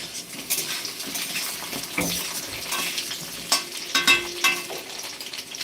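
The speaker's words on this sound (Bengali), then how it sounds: "আর এখন আমি রান্না করছি" Food fries and sizzles in a pan while a utensil stirs and scrapes it, with clinks of metal on the pan and a few louder knocks near the end, all close by and without talk.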